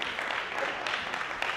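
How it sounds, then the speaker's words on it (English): Applause from a leadership conference audience at Clark Atlanta University, a steady wash of hand clapping throughout the short stretch, moderately loud with no voices on top. "I need a hand clap for that"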